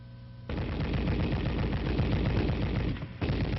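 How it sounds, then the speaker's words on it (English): Sustained automatic bursts from an M73 7.62mm coaxial tank machine gun, loud and close, a rapid continuous stream of shots with a brief pause near the end before firing resumes. "and the gun is ready to fire."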